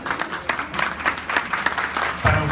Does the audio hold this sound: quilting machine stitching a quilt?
no